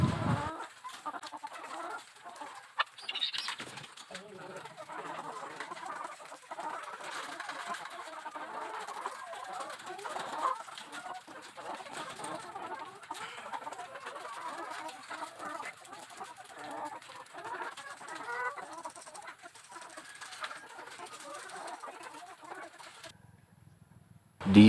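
Chickens cluck and murmur continuously inside an egg-laying poultry house, a dense, moderately distant flock chatter with occasional louder calls, and no one speaks.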